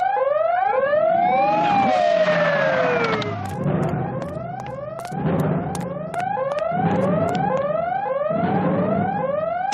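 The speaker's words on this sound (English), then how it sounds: "Let's see if I can get this open without setting off the alarm." An alarm goes off during a break-in in an animated cartoon, a loud wailing siren sweeping up and down in repeated cycles with sharp clanks and bangs layered over it.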